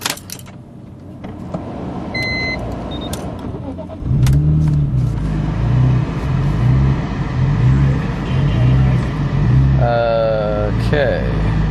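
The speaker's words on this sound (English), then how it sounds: "Had a little idle surge when we just started it up" A car on a dyno cranks and starts, then settles into a loud, steady idle that swells and dips unevenly as it surges, with a voice heard briefly around the engine.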